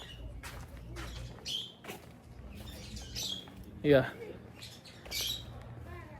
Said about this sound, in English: see the sound of the birds chirping